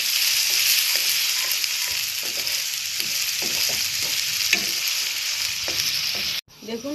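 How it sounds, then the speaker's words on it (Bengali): Chopped onion fries gently over a low flame in a pan for veg tadka, a continuous sizzle broken by frequent spatula stirs and scrapes, close up, with no voices. "এবারে আমরা পেঁয়াজ কুচিটা দিয়ে দেবো। এটা একটু আস্তে লো ফ্লেমে রেখে ভালো করে ভাজতে হবে।"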